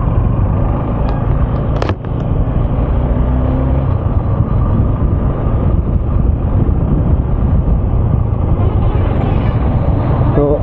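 Traffic on the Kharagpur highway, a loud continuous roadside rumble of passing vehicles with wind buffeting the microphone and a brief sharp knock early on.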